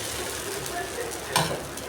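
Dosa batter sizzles steadily on a hot pan in a home kitchen, a close, even frying hiss with a faint scrape near the end.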